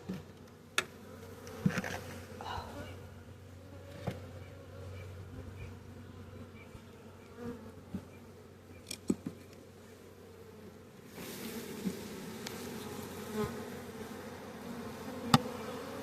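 Honey bees buzz inside an opened backyard hive, a soft, steady drone, with single bees flying close by in brief louder passes and light handling noises.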